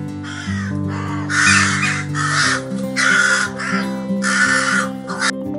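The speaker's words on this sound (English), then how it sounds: "Sound of crow is cow cow." Several loud, harsh crow caws repeat in irregular bursts, close and clear over a steady background hum.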